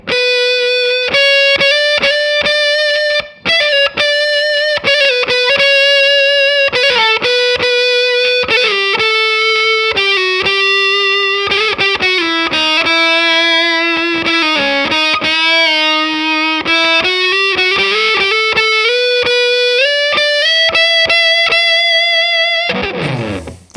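A Red Witch Fuzz God IV fuzz pedal on electric guitar, set to maximum gain with fuzz and sputter turned fully up, gives a thick, saturated sustained tone through a continuous loud melodic riff.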